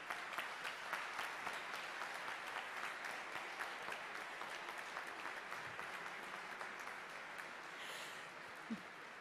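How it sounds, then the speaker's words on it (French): Applause from the audience at a political general assembly debate in Paris, a dense sustained clapping that carries on throughout, fairly distant and even, with no voices over it. "Je vous demande de les applaudir tous."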